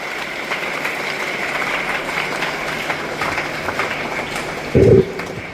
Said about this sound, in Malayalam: അതിനും നല്ലൊരു കൈയടി അവർക്ക് കൊടുക്കാം.